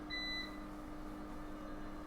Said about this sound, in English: And the UPS is beeping, we can hear that.